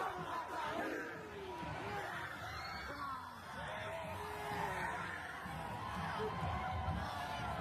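A crowd shouts and yells at a group of people, telling them to go, with many overlapping raised voices and jeers forming a restless, continuous din that swells and dips slightly.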